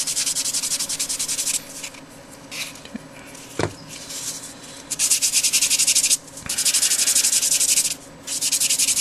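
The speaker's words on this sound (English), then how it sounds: "I'm using a sanding sponge, as it allows me to get a lot of the contours" Steady scratchy rubbing of a sanding sponge on plastic, coming in repeated strokes with short pauses between, close and fairly loud.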